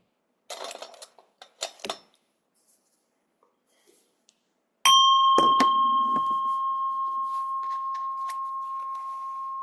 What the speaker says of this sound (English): Just allow the sound of the gong